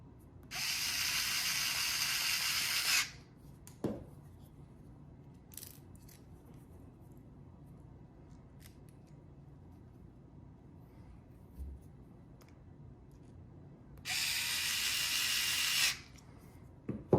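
A small power screwdriver drives screws into a CyberBrick forklift gripper attachment, two sustained whirring runs of two to three seconds each, near and clear, separated by a long quiet stretch with faint handling taps.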